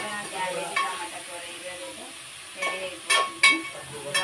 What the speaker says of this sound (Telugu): క్యాబేజ్ ముక్కలు అయితే ఫ్రై అయిపోయింది అనమాట